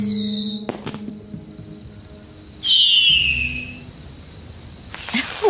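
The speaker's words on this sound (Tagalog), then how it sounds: "Ang ganda ng fireworks, ha?" Fireworks go off at night: two whistling rockets shriek upward and burst loudly a couple of seconds apart, with a sustained high whistle between them.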